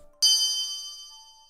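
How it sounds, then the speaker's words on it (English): A bright electronic chime in a forest video game rings out once, clear and sustained, its shimmering tone slowly fading over a second with nothing else audible. "I know if we're going on the right route because I'll hear that chime."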